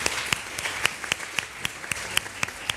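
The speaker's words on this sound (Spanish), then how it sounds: "Un aplauso por valiente." Brief burst of applause from an audience, with sharp individual claps standing out in an uneven rhythm, fairly close.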